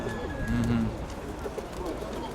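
A pigeon coos a soft, low throaty call amid background chatter and outdoor ambience at a fair in Dnipro, with a brief second coo shortly after.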